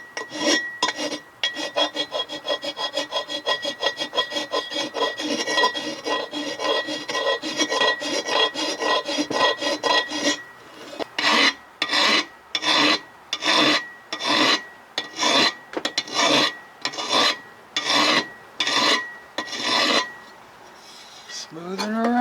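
A hand file rasps across the blade of a 60 hp Johnson outboard propeller, first in fast continuous scraping, then in slower separate strokes with short pauses, close and loud.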